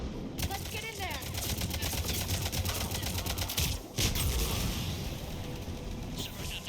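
Rapid, dense gunfire crackles almost continuously through a Mass Effect 3 firefight at a checkpoint on Insanity difficulty, with a brief dip near the middle before the shooting resumes, while voices talk over it.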